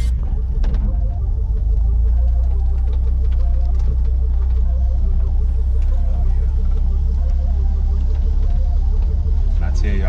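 A 1961 Corvair Rampside pickup's rear-mounted engine drones with a steady low rumble while driving, loud and continuous with road noise, a voice talking over it.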